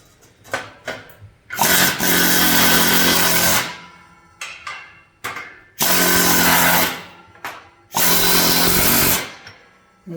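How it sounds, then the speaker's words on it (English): An air hammer with a concave tip sets rivets on a windmill being reassembled: a few short stuttering taps, then three long, loud sustained bursts of rapid hammering, each lasting about two seconds and separated by pauses. "we have a little tool on the end of our air hammer that's concaved"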